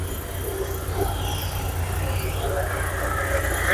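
A car engine idles steadily at a used car market in Qarshi, a constant low rumble with faint voices and market bustle around it.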